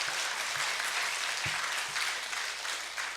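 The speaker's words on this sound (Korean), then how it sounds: "우리 박수로 하나님께 영광을 돌리겠습니다." At a Korean Thanksgiving Sunday service at a church in Hanam, the congregation bursts into close, continuous applause that holds strong for a few seconds.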